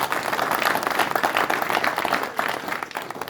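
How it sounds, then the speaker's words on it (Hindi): Audience clapping at a memorial gathering for soldiers, a dense, fairly even patter of many hands sustained throughout at moderate distance. "जोरदार ताली"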